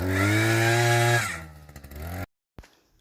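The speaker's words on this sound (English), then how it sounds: "This was done with an 8-inch drill bit on my Harbor Freight auger." A gas-powered Harbor Freight auger with an 8-inch bit roars steadily while drilling post holes, then bogs down and sputters as it works, before cutting out abruptly.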